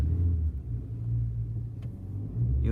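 Honda Civic MK8 car reversing slowly, a low close engine rumble and road hum that holds steady over a few seconds with slight swells, no talking.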